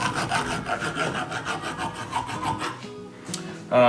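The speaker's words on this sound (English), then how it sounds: "we can go around, fix up any bad sections, or even just clean the threads out thoroughly." A thread-cleaning tool scrapes around a bolt's threads, a steady rhythmic rasping with repeated strokes that continues for a few seconds, then fades out before a brief louder sound at the end.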